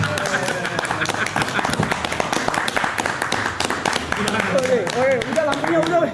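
People clap hands in a quick burst of sharp, scattered claps, with voices talking over them and chatter continuing toward the end.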